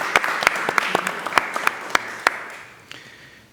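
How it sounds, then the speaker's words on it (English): A small audience at an industry roundtable panel claps for an introduced panelist. The claps are sparse and distinct, thinning out and trailing off over a few seconds. "So a big round of applause to Pedro as well."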